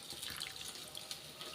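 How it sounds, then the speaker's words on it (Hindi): Water is poured into a pan of spicy Goan-style tarle fish curry as a soft, steady splashing stream, faint and continuous, with no talking. "अभी हम उसमें ऐड करेंगे पानी"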